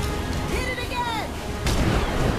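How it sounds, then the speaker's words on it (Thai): Gunfire and explosions from the PC game Terminator Salvation sound loud and dense, with a rumbling low boom and a sweeping whine midway, then a heavier burst near the end. "เราต้องยิงที่ปีกมันนะฮะที่ไอพ่นมันนะฮะ"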